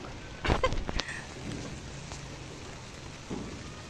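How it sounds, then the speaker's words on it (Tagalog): Soft, steady rain patters in the background, with a few sharp knocks and rustles near the start. "Ang maulan. Ayan guys, nandito tayo, umuulan."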